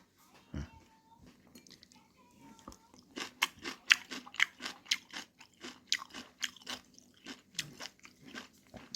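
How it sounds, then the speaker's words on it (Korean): Blanched, seasoned jeonho greens (namul muchim) are chewed close to the mic: crisp, wet crunching bites come in a quick, uneven rhythm after a few quieter mouth sounds at the start. "전어나물 무침을 제가 한번 먹어보겠습니다"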